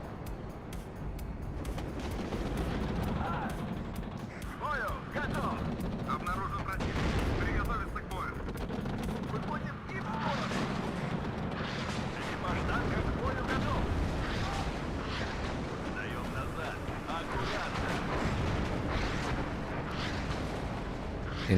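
Battlefield gunfire and heavy machine gun bursts from the real-time strategy game WARNO, with rumbling artillery-like booms layered through a dense, continuous combat din, while someone talks over it.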